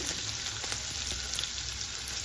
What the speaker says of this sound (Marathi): त्यात छोटासा आहे ना कांदा बारीक केलेला टाकला आहे फोडणीसाठी